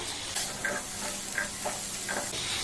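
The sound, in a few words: boiled potatoes stir-fried with spices in a pan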